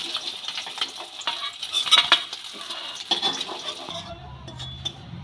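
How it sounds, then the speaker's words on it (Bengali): Fish sizzle steadily in hot oil in a pan, with utensil scrapes and light metallic clinks over the hiss; the frying quiets toward the end. "মাছগুলো বেশি কড়া করে ভাজবো না একটু হালকা আমি ভেজে তুলে নেব"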